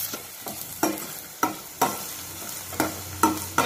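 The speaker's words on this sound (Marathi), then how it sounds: "तेल गरम झालं की यात बारीक चिरलेला कांदा आणि बारीक चिरलेलं आलं घालायचं आहे आणि लो फ्लेमवर 2 मिनिटं परतून घ्यायचं आहे" Finely chopped onion and ginger frying in hot oil on a low flame, with a soft steady sizzle broken by regular spatula stirring scrapes about every half second, close and alone.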